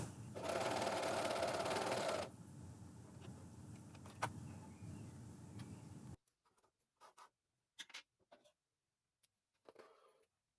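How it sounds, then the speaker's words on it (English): A Juki coverstitch machine sews through several fabric layers along a seam, running loud and steady for about six seconds, with a louder burst near the start. Scattered soft handling clicks follow once the machine stops. "align the seam so that the center needle goes into the seam and cover stitch through all the layers"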